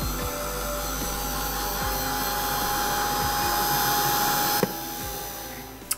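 A hair dryer blows steadily over acrylic paint on canvas, a continuous close whirring hum with a faint high whine that cuts off abruptly near the end, followed by a couple of small clicks.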